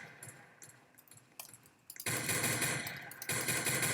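Gunfire in the Roblox Brookhaven video game comes as rapid bursts of shots, sparse and faint at first, then loud dense automatic fire from about the midpoint, with no talk.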